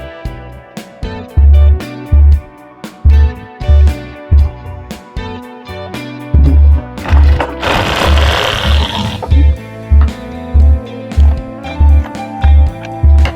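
A sewing machine topstitches a trouser hem in loud, steady bursts of rapid needle clatter, starting and stopping in a regular rhythm with a brief rushing whir midway.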